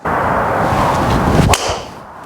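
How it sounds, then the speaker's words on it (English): A whooshing swing ending in a sharp, crisp impact as a carbon-crowned TaylorMade Stealth Plus golf driver strikes the ball, with the whoosh trailing off afterward. "It does sound like a titanium driver, and it's a good sound."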